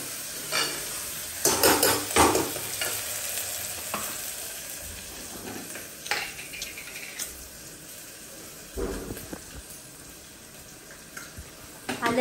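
Tomato and masala frying and sizzling in a pan while being stirred, with irregular scraping strokes and clinks under a steady crackling hiss, fairly close, with no talk.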